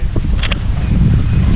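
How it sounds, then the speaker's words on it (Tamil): Wind blowing hard across an open rooftop where chickens are kept, a steady rushing roar filling the short moment without any voices. "காற்று நல்லா சூப்பராக அடிக்குது."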